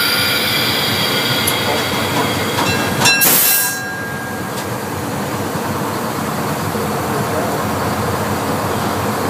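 A train runs along the line with a loud, continuous rumbling roar and rail clatter, close by, and a brief metallic squeal and burst a few seconds in. A voice speaks faintly beneath it.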